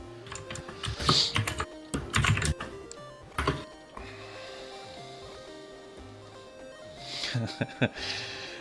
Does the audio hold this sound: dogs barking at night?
no